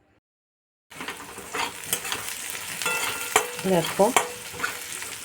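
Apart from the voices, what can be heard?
sautéing Kashmiri chilli, turmeric and salt in oil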